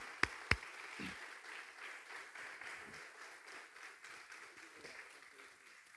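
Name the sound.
applause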